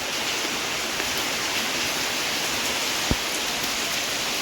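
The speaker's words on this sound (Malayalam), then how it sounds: "ഭയങ്കരമായ മഴ" Heavy rain pours down in a dense, unbroken hiss, steady and loud throughout, with one brief knock near the end.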